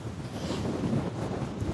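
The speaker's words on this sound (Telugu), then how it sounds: "విండ్ స్పీడ్ ఎంత ఉందో తెలియదు కానీ పిచ్చిగా విండ్ ఉంది." Strong wind blasts across the summit slopes of Britain's highest mountain in cold weather, a steady close roar buffeting the microphone throughout, with no voices.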